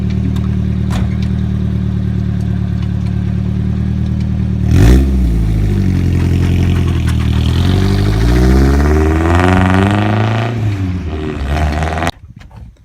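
Lowered Nissan 240SX S14 on eBay coilovers starts and drives off, a steady idle jumping into a loud rev near five seconds, then rising and falling engine pitch as it pulls away before cutting off abruptly near twelve seconds.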